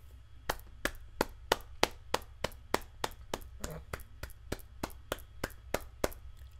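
Hand clapping in a steady, even rhythm of about seventeen sharp claps, close and fairly soft over a low hum.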